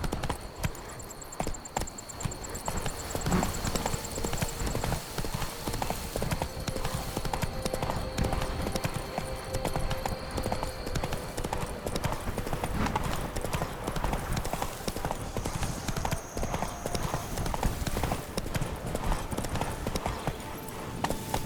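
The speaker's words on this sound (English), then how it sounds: "Giddy up. Run, Roach." Horse hooves gallop in The Witcher 3, a continuous fast clip-clop rhythm running throughout over game ambience, with occasional speech in the background.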